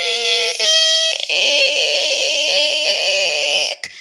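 A voice imitates a door slowly creaking open, a drawn-out, wavering high-pitched creak lasting several seconds, loud and close, ending abruptly.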